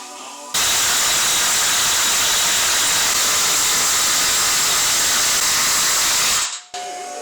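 A Baileigh Industrial metal forming machine runs steadily for about six seconds while rounding a piece of flat scrap sheet metal, with a loud continuous motorized whir and grinding hiss that stops abruptly near the end.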